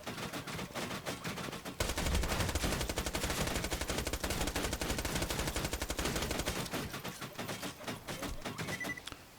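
Rapid sustained gunfire in Borderlands 2 during a Thousand Cuts mission fight with turrets, dense continuous bursts of shots close and loud, with a brief quieter lead-in and a few pauses near the end.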